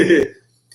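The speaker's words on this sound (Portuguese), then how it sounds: "eu tô com tosse" A single short, rough cough, close and brief, followed by near silence.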